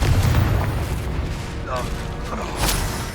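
A Confringo fire spell explodes in Hogwarts Legacy, a loud, rumbling blast that fills the moment with a dense roar and swells again briefly near the end.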